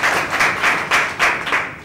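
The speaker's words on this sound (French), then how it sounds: "Je vous demande de les applaudir." Applause fills a hall at a Children's Day event, a dense, loud wash of many hands clapping with rhythmic swells throughout.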